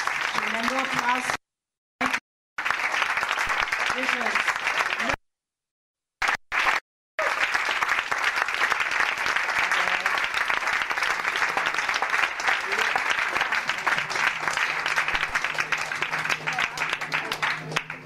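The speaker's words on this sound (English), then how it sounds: "A great applause for the audience." An audience at a live music performance applauds, a loud, dense wash of clapping that runs almost throughout with a few abrupt gaps, and a voice is briefly heard at the start.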